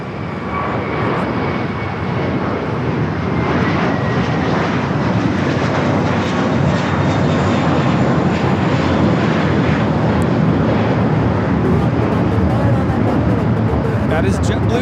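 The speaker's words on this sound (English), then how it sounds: "That is JetBlue 324 taking off to JFK on the A321" A JetBlue Airbus A321 takes off from LAX bound for JFK, its engines a loud, sustained roar that fills the whole stretch, with people talking faintly underneath.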